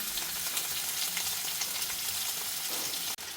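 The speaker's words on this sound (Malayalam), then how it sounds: "നമുക്ക് ഉരുളക്കിഴങ്ങ്, ക്യാരറ്റ്, കോളിഫ്ലവർ അതൊന്നാദ്യം നമുക്കൊന്ന് വാട്ടിയെടുക്കാം" Potato, carrot and cauliflower sauté in hot oil with a continuous dense sizzle, close and even throughout, briefly cut off at the very end.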